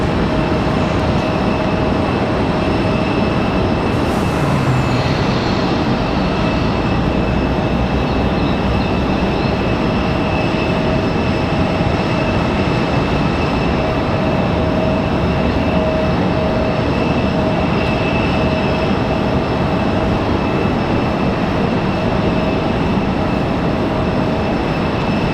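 A Breeze Airways airliner taxiing out to the runway at Raleigh-Durham International produces a loud, constant engine roar with a steady high-pitched whine running through it, unbroken for the whole stretch.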